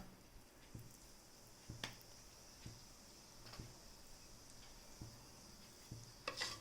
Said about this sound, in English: Let the mustard seeds splatter